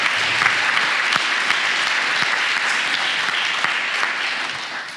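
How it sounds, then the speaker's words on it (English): An audience at the City of Anderson AAMP graduation applauds Mayor Broderick, a dense sustained round of clapping that holds steady and fades slightly toward the end. "So let's give Mayor Broderick a round of applause."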